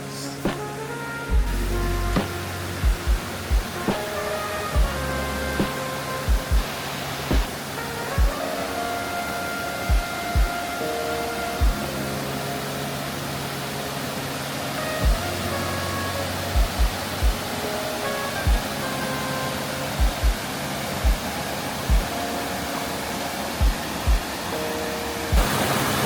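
A waterfall pours in a constant dense roar, a loud, even wash of falling water that fills the whole stretch, with beat-driven music and regular thumps layered over it.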